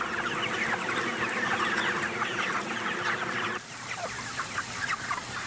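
Farm chickens raised for meat, a dense flock clucking and murmuring continuously, close and fairly loud, with a slight drop in level partway through, no voices.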